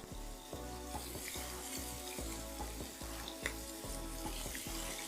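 Scallops sear in a hot pan, a soft, steady sizzle layered with low rhythmic clicks and clatter as each one goes in, fairly quiet and without talk.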